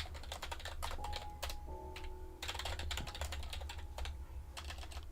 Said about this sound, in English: I need to get good at typing too.